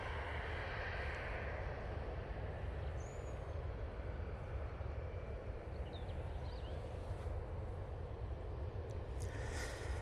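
Airplane taking off from Manchester Airport in low visibility on a short flight to Belfast, a steady distant engine roar with a broad rumble that holds level throughout, no voices.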